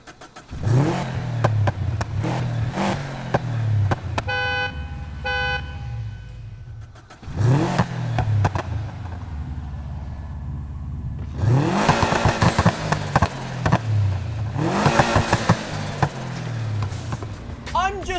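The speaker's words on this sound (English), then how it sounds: "we had to go slap an exhaust on this thing and just check out the meter-long flames that this car shoots" An offroad-built Subaru STI fitted with an aftermarket exhaust, in the racing game Need for Speed Heat, revs hard in repeated loud bursts with crackling pops between them, a brief tonal horn-like blip and quieter idle gaps.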